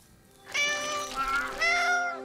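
Cartoon ice cream cat giving two bright, tonal meows close up, the second rising after a short pause, with nobody talking.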